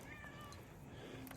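A pet cat named Marina, travelling companion on a 2023 Harley Pan America trip, gives faint, thin meows over a quiet background hum.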